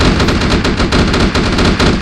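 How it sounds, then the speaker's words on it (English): Rapid, loud bursts of artillery cannon fire from a base turret in the space survival game Empyrion Galactic Survival, pounding in a dense continuous volley with no talk. "As you can see, the artillery cannon was still shooting at them."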